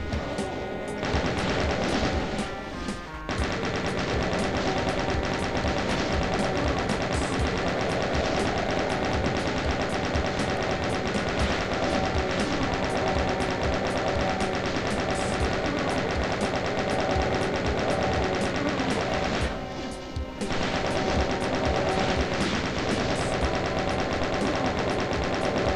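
Rapid, continuous gunfire from bullet weapons in DooM rattles on nonstop. The loud, dense barrage holds steady throughout, with two short lulls near the start and about two thirds of the way in.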